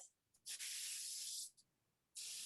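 Cooking spray hisses onto a baking pan in two bursts, the first a long steady spray of about a second and the second starting near the end, loud and close with nothing else heard.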